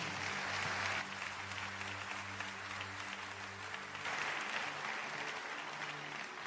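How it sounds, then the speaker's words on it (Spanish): A church congregation gives loud, sustained applause during a Spanish-language service, dense clapping held at an even level throughout, with a soft organ or keyboard chord sustained underneath. "Den un aplauso fuerte a Dios."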